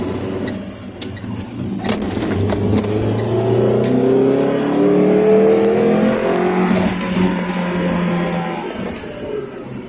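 A Renault Twingo 2 RS on the road, its engine note rising and falling with rumbling mechanical sound as it drives and brakes hard, loud and close from inside or near the car, with no talking.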